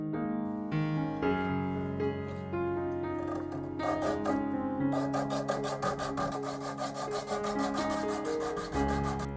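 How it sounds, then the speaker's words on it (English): Sandpaper worked along the edge of a resin bloom piece gives a steady, rhythmic rasp of repeated strokes under sustained background music. "I'll sand this edge off"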